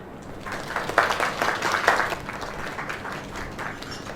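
Applause in the video game Lake comes from a small crowd celebrating a newly opened place, a dense patter of clapping that swells to its loudest early on, then thins and fades, heard up close with no talking.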